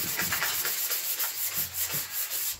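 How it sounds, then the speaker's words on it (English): Hand sanding on the plastic trim parts of a 1979 Trans Am, a steady back-and-forth rasping rub repeated in quick even strokes, close and fairly loud with no voices. "And a lot of people don't like the sanding."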